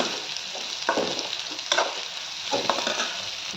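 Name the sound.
Bitter gourd frying in a pan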